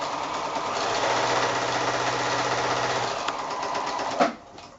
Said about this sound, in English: flipping that one over and sewing this seam here, and then back to the sewing machine